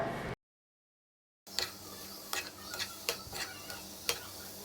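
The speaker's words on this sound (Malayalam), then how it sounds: "നന്നായിട്ട് മിക്സ് ചെയ്തിട്ട് നല്ല രീതിയിൽ വാട്ടിയെടുക്കണം കേട്ടോ." Cooked cauliflower being stirred in a hot pan, with a spoon scraping and tapping at irregular intervals over a low background sizzle after a short silent gap.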